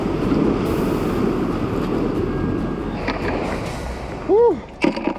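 Ocean waves break against a dangerous jetty during fishing and crabbing, a steady close roar of surf tangled with heavy wind buffeting, with a short voice-like sound and splashes near the end.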